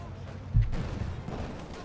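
Mortar fire in the Company of Heroes 2 strategy game: a single muffled thump lands midway, followed by a low rumble beneath steady game ambience.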